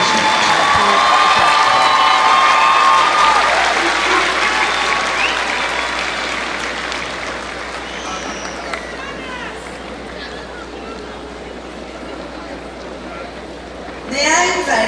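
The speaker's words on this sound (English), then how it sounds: "I invite a round of applause for the candidates" An audience at a 2018 commencement ceremony applauds the Bachelor of Science candidates from the School of Business and Management. Loud clapping mixed with some cheers and crowd murmur starts strong, then gradually thins and fades toward the end.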